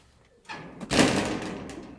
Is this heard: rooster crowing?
no